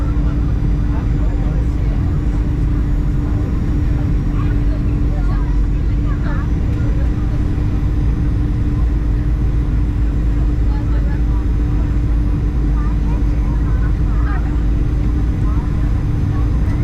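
Inside the cabin of a Jet2 Boeing 737-800 airliner landing in Gran Canaria, a constant, heavy engine and airflow drone with a low steady hum persists throughout, close and loud.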